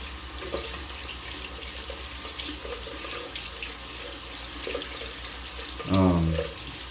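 Water runs steadily from a tap in a continuous close splashing rush, with a brief louder gush near the end and faint speech in the background.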